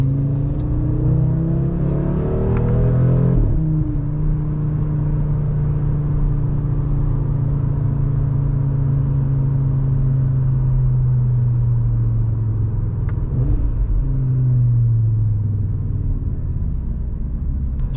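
A 2022 Audi RS3 sedan with its 400 hp five-cylinder engine drives steadily, a loud, close, continuous rumbling drone with shifting engine tones, a brief rev change around a gear change early on and another swell near the end.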